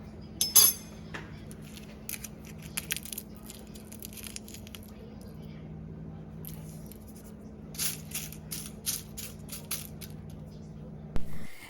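Light, dry crunching and crinkling of microwave-dried herbs in scattered bursts, close and fairly quiet, over a steady low hum.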